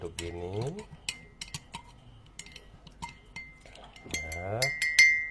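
A spoon stirs a small amount of water-based herbal cough remedy in a pot with scattered light clinks and taps against the metal. Brief bits of speech come at the start and near the end.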